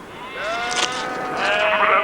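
Soay sheep bleat twice in quick succession, the calls wavering and fairly close, with a second longer bleat toward the end and no talking.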